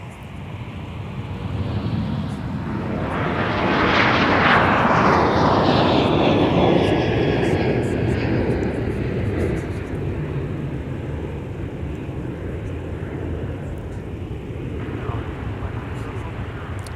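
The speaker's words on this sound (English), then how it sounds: "Our Primary 737 that we saw earlier, taxied by us in taxiway Mike, headed to 30 left, has now gone airborne for San Bernardino, California." A Boeing 737 airliner departs runway 30 left at MSP airport, its engine roar swelling loud as it climbs past, then fading into a long distant rumble with wind noise, while someone talks over it.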